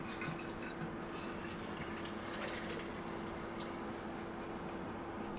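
Liquid pours steadily into the solution tank of a Hoover Smartwash Pet Complete carpet cleaner as a continuous faint watery rush, with a few light drips and plastic ticks close by.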